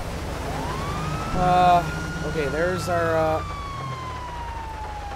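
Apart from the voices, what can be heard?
police car sirens in a video game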